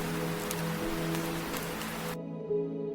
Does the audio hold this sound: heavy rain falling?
yes